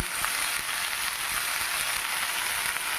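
Ridge gourd tipped into a pan of onions already fried deep red, giving a steady, close, fairly loud sizzle that holds evenly throughout with a few soft stirring knocks and no talking.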